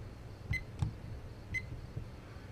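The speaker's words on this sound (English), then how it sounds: "Let's make some beeping noises here" In the game Fallout: New Vegas, three short, faint electronic beeps sound at uneven intervals over a low, steady background hum.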